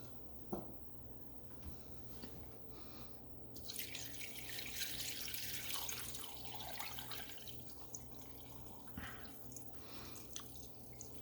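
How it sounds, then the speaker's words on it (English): Water poured into a pot of turkey stock in a home kitchen, with a few faint drips, then a louder steady pour for several seconds that tapers off. "Now we're going to add some more water."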